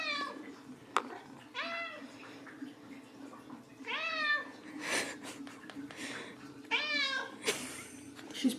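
A black cat meows repeatedly in eager, rising cries over a steady low purr while excited about treats, with a few sharp calls spaced through the stretch and a voice faintly in between.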